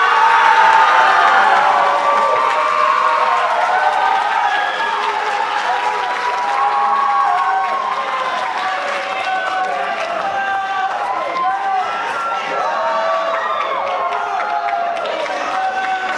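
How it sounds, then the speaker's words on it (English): A large audience at a school spring concert breaks into sustained applause with cheering and whoops, a dense, steady wash of clapping that holds loud for the whole stretch and eases slightly toward the end. "Please give one more huge round of applause."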